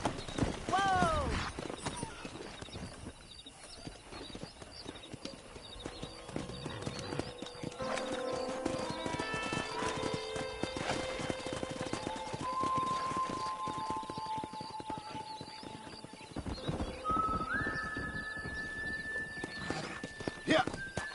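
Rapid hoofbeats drum steadily throughout, with a few horse whinnies rising above, plus some musical tones and voices in the background, from the video game Red Dead Redemption.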